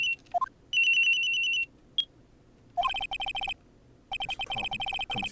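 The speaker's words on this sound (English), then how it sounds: "At around 10:30, I received a call on my cell phone." Cell phone ringtone from the Phoenix Wright: Ace Attorney Trials and Tribulations video game, a bright electronic trilling ring in three separate bursts with short pauses between them, loud and close with no talking.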